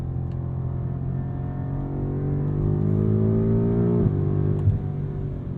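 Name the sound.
BMW M5 Competition engine accelerating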